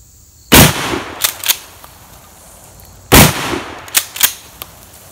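Two loud shotgun blasts of 3-inch Winchester Super X number 6 shot boom outdoors a few seconds apart, each followed by sharp echoing cracks and rattles.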